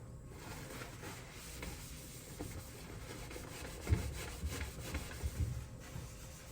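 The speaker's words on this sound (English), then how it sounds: "Scrubbing along." Cooking pot being scrubbed clean after macaroni was cooked in it, a quiet, repeated rubbing and scraping with a few louder knocks near the end, close by and with no talk.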